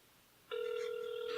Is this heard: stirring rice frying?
no